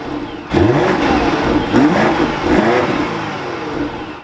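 2024 BMW X5 M60i V8 starting up: a quiet moment, then the engine catches with a loud surge that swells and eases in revving waves before settling to a strong steady idle, heard up close.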